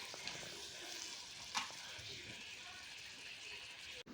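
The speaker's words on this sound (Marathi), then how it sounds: "5 मिनिटं हाय फ्लेमवर चांगलं परतून घ्यायचं आहे." Paneer bhurji frying on high flame, a soft, even sizzle with a brief scrape of stirring, close but quiet, ending in a sudden clunk.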